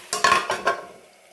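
A metal lid clatters onto a frying pan of onions being cooked for a Telugu onion chutney, a few quick bright clinks and knocks in close succession, then quiet.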